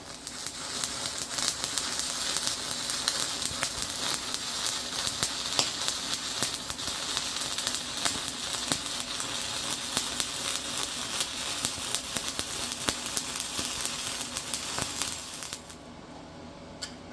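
A stick welder burns a 7018 electrode at 105 amps with a steady, close crackling hiss, dense with small pops, that runs unbroken for about fifteen seconds before cutting out.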